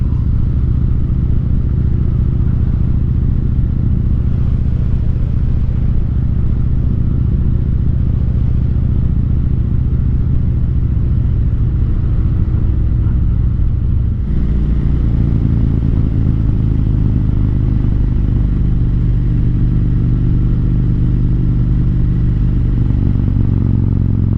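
A Harley-Davidson motorcycle rides on a winter road, its engine a steady, loud, low rumble that holds throughout with a slight shift in tone partway through as the ride changes pace.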